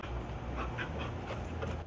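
Dog panting and whimpering close by in a home, quick breathy pants mixed with short high whines throughout, with no talk.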